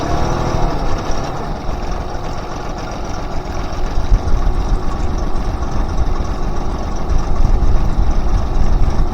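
A Honda BF25A 25 hp four-stroke outboard boat engine idles with a steady, rough drone, low and close, with a slightly knocking texture and no voices.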